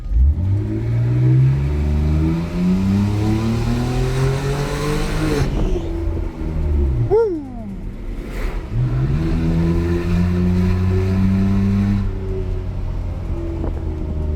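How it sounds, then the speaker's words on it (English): A car engine with a straight pipe exhaust being floored, loud rising revs through several gear changes with a sharp pause and a squeal-like tone midway, then climbing again, no talk. "that engine roar"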